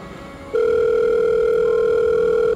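A telephone line tone in a Jamaican drama scene: a faint hum, then a loud, steady electronic tone that holds unbroken for about two seconds.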